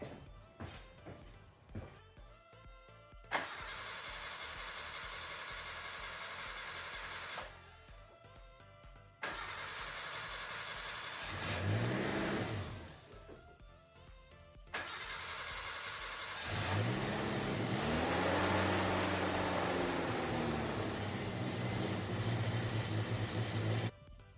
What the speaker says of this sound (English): We are gonna crank it over first. The bowl's gonna be dry and hopefully it'll start up in idle.